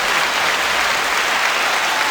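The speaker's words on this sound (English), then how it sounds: "y'all give this man a round of applause." Dense, steady applause from a live audience at a talk-show taping, sustained evenly for the whole stretch with no voices over it.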